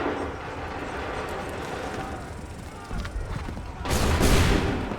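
Musket volleys ring out across an Assassin's Creed III battlefield, a steady rumble of scattered shots with a louder burst of fire near the end, under shouted commands.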